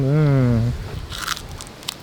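A drawn-out vocal exclamation, then close crisp crunching bites of crispy fried pork intestine with faint crackles.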